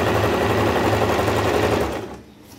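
An electric sewing machine stitching a seam on a six-panel petticoat runs in a steady, loud, fast mechanical whir, then slows and stops near the end.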